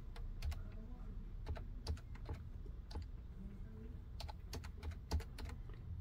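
Someone types an IP address on a computer keyboard: crisp, close key clicks arrive in irregular bursts with short pauses between them, a few keystrokes louder than the rest, in an otherwise quiet room.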